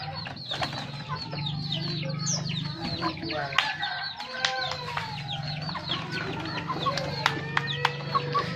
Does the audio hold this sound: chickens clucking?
yes